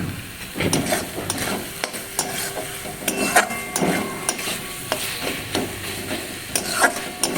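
Soybean curry spices being stir-fried in a pan, with a steady sizzle under repeated scraping and clinking of a spatula against the metal, close and fairly loud with no talking.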